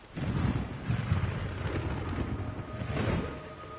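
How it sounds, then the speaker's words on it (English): Rolling thunder rumbles over a steady hiss of rain in the video game Metal Gear Solid 3: Snake Eater, swelling and fading in broad waves across a stormy scene. "It's raining blood."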